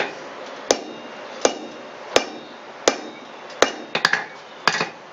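A blacksmith works hot steel into a horse-head bottle opener, striking half-face blows with a rounding hammer on the near side of the anvil: evenly spaced sharp ringing strikes, then a quicker cluster of lighter taps near the end.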